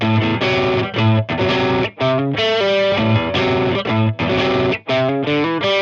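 Distorted, chorus-tinged electric guitar plays a hammer-on riff variation: a steady run of short choppy phrases with quick breaks between them, loud and up close, with no talking.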